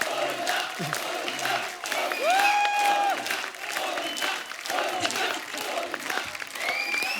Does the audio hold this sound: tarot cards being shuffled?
no